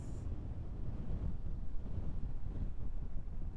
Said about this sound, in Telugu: గాలి బీభత్సంగా తోలుతోంది